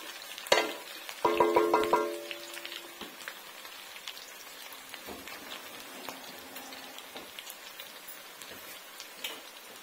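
Chow mein ingredients frying in a pan while being stirred, with soft crackling sizzle and a few sharp metallic clinks of utensils near the start.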